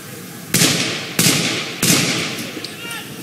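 Three loud, sharp gunshots ring out about half a second apart during the Watertown shootout, echoing at a distance outdoors with faint background noise.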